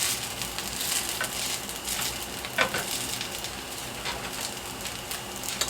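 Ham steak frying in butter in a pan gives a steady, moderately quiet sizzle with scattered crackles and pops, running on without any voices.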